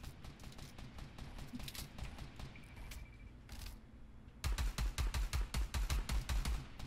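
Rapid gunshots in a shooting video game, first as a faint crackle of scattered distant shots, then a louder, closer run of evenly spaced rapid-fire bursts over the last couple of seconds.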